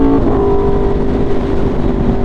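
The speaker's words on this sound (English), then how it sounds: "I think it's the best sounding motorcycle made" An Aprilia motorcycle engine drones steadily while being ridden, a loud continuous rumble with a sustained tone and no break across the stretch.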